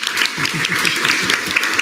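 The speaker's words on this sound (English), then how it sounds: "So also clap it up, clap it up." Student government senate audience clapping for a new vice chair, a steady wash of dense applause from a room of people, moderately loud and continuous.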